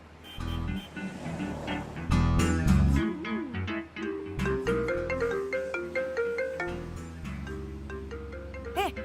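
A melodic phone ringtone plays loudly and continuously, a bright electronic tune with layered notes and a steady beat.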